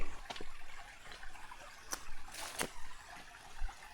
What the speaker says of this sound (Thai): ว้าน้ำไหลงามทุกคนเด้เยอะเลย